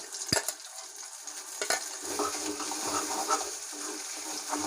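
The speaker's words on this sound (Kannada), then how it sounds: "ಇದು ಹಸಿ ಸ್ಮೆಲ್ಲೆಲ್ಲ ಹೋಗೋವರೆಗೂ ಚೆನ್ನಾಗಿ ಫ್ರೈ ಮಾಡ್ಕೊಬೇಕು." A ground masala paste of roasted gram and garlic fries in a pan over low flame, giving soft, uneven stirring scrapes and a quiet sizzle, with a couple of sharper clinks near the start.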